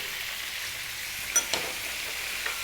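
Onions and garlic frying in a pan for a lamb and potato stew give a steady, fairly quiet sizzle throughout, with a couple of brief stirring clinks near the middle.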